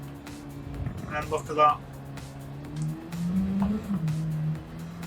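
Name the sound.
race car engine in a video game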